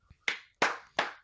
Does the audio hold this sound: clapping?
yes